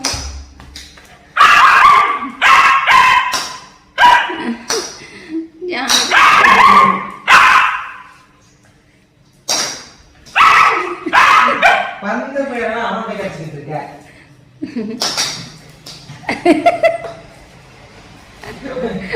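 A puppy barks, yips and whimpers repeatedly while playing catch, close and loud in quick bursts, mixed with people talking and chuckling throughout.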